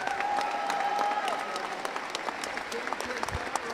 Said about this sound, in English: please join me in one more round of applause for this amazing senior class